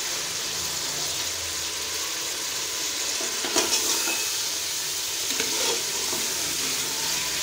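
Chicken pieces frying with salt for a chana dal chicken dish give off a steady broadband sizzle with a few brief stirring scrapes near the middle, close and continuous, with no one talking.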